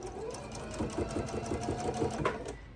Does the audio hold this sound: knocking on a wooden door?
no